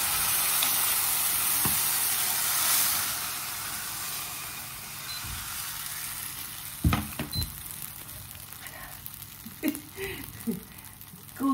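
Pancakes frying in a little oil in a pan give off a steady hiss and sizzle that fades over the first seconds, followed by faint clinks and scrapes of kitchen utensils.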